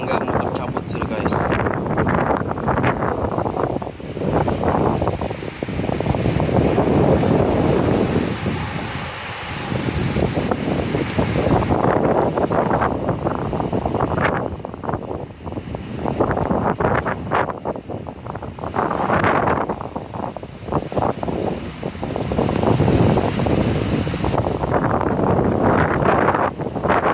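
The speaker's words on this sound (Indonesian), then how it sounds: "Angin bertiup dengan kencang sekali" A strong wind blows hard at midnight in Sandakan, near Simsim, roaring steadily and loudly into the microphone in gusting surges that swell and ease for nearly half a minute while a mango tree is nearly uprooted.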